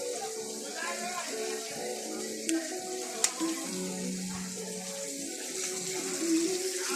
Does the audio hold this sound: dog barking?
no